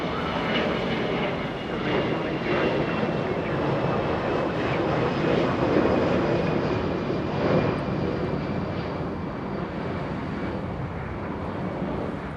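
An Allegiant Airbus A320 jet roars on takeoff at Los Angeles International Airport, a loud, broad, sustained engine rumble that swells to a peak midway and then slowly fades, heard alone without talk.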